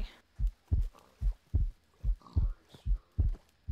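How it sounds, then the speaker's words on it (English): A heartbeat from the Minecraft Thaumcraft mod thumps in low, heavy paired beats at a quick, steady pace, loud and alone with no talking. "This heartbeat. It's really, like, scary."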